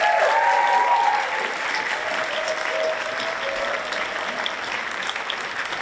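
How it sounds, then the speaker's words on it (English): Audience applause at a country music awards show, a steady dense round of clapping filling the room, slightly louder at the start then holding even to the end, with no talk over it. "Ken Allison, and Charlie Mitchell, a round of applause, please."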